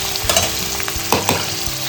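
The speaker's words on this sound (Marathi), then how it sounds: "कांदा दोन कांदे घेतले होते मोठे फोडणे सुरू झाले" Onions fry in hot tempering oil with a steady close sizzle, broken by a few stirring scrapes and clinks and no voices.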